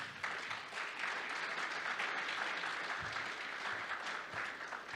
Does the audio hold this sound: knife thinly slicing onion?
no